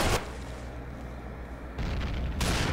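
Loud bursts of gunfire and booming blasts ring out in the shooter game Combat Arms, a dense explosive roar at the start and end with a duller rumble between.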